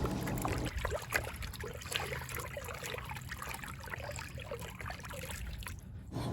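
A hand swirling rinseless car wash product through a bucket of water, giving a steady close sloshing and trickling churn that runs without pause.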